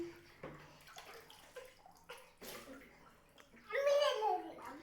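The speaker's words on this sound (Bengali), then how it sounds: "আমি একটু জল ঢেলে দিই" Water is poured over a young girl during a home bath, a loud splashing gush near the end following soft talk between mother and child.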